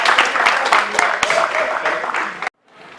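A church congregation applauds for Jesus Christ with dense, close clapping and voices mixed in, then it cuts off abruptly.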